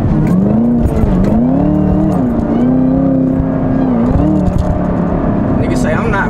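A Chevrolet Camaro ZL1 drives off, its engine droning loud and close with rising and falling revs and a steady whirring note, while someone talks briefly over it.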